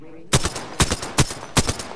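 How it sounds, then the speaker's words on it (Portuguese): Gunfire in the Apex Legends video game comes as four loud, sharp bursts spaced about half a second apart, each a quick rattling volley over faint background noise. "Tu tá tomando tiro da outra squad ali"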